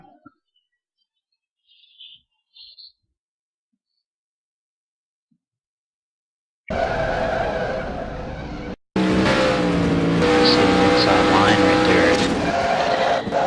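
Race cars in a stock car race wreck, with a loud burst of engine roar and tire skidding after a quiet stretch, cut off briefly, then resumed as dense crash and engine noise.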